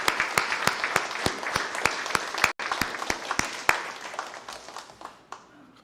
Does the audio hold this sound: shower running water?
no